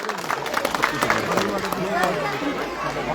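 Audience clapping to welcome a guest at a kindergarten's annual sports and cultural event in Ghatmajhi Union, a dense steady patter of many hands filling the room with crowd murmur mixed in throughout.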